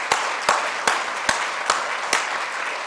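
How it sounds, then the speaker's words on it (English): Applause at a Cleveland Cultural Gardens gala honouring George Voinovich, a steady wash of clapping from a crowd with louder sharp claps standing out every half second; no talk. "will you please give George Voinovich a round of applause?"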